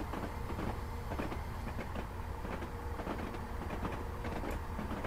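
A simulated train on the Fife Circle line in Scotland rumbles steadily along the rails with faint rhythmic wheel clicks, a continuous dense rolling noise with no voices.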